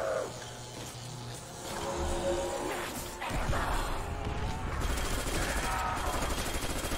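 FG42 rifle gunfire in the Call of Duty: World at War zombies map Der Riese, rapid automatic bursts crackling at close range with game effects underneath.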